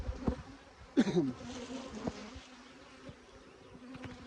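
Agitated honey bees buzz close by in a steady insect hum, with several sharper, louder buzzes of individual bees flying past the hive during honey harvesting.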